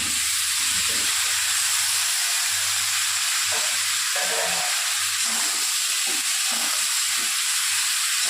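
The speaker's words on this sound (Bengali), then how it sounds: "এবার দিয়ে দেবো কেটে রাখা কাঁচা কুমড়োগুলোকে।" Raw pumpkin pieces frying in a pan of hot oil for a fish curry, a loud continuous sizzle and hiss with low stirring clatters underneath and no talking.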